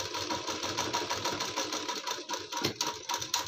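Close, steady whir of a sewing machine stitching the lining of a kurti, a continuous run with a fast mechanical rhythm and a slight hitch near the end, with no voices.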